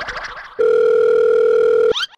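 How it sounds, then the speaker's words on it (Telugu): A steady telephone dial tone hums loudly for over a second, then cuts off abruptly. "మా ఫ్రెండ్ గీతకు ఫోన్ చేస్తాను."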